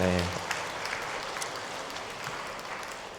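A church congregation claps, a dense patter of applause that slowly fades, after a brief voice at the start.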